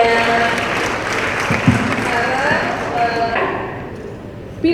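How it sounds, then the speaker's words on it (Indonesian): A crowd at an Indonesian campaign event applauds in a steady, dense wash of clapping and cheering that holds for several seconds before thinning slightly toward the end. "Tepuk tangan sudah menjawab pertanyaannya"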